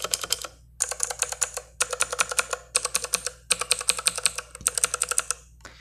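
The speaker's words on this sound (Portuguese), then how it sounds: "Esse é o ruído do switch azul" Mechanical T-Dagger Corvette keyboard with blue switches typed on steadily, crisp clicky keystrokes coming in rapid bursts with short pauses, close and clear, no voices.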